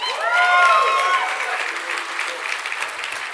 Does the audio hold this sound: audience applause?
yes